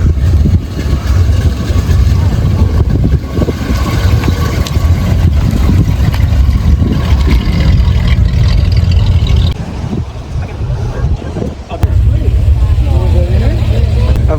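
A car doing a burnout at a morning car meet, its engine roaring loud and sustained throughout, with a brief dip near the end, while people talk over it.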